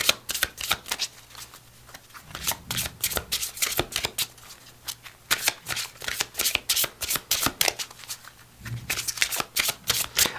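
Metatron oracle cards being shuffled by hand, close and crisp, in a steady run of quick riffling snaps and soft slides repeating across the whole stretch, with no talking.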